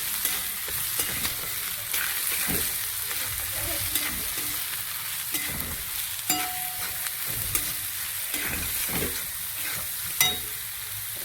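Ground cumin and salt fry in a pan with a continuous soft sizzle, overlaid by repeated scraping and clinking stirs of a utensil against the pan.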